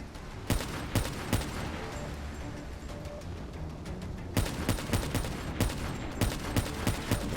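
Sniper fire in the Black Ops 3 video game mission In Darkness: a rapid string of sharp gunshots cracks out in loose bursts over a steady battle rumble, with a brief lull in the middle before the shots resume.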